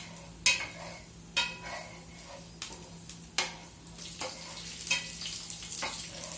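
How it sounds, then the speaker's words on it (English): A Chinese noodle mixture with red chilies is stir-fried in a pan, a spatula striking and scraping in a regular run of sharp strokes over a soft sizzle, with no talking. "And then stir fry for 30 seconds."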